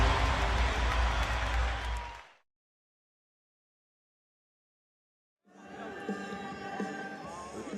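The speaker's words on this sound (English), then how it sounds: "We are looking at the crowd inside the Robert Estrella Senior Memorial Gymnasium" Crowd noise inside a basketball gymnasium during a President's Cup game, a dense roar that cuts out into silence midway, then returns as a thinner, busier crowd murmur with scattered voices.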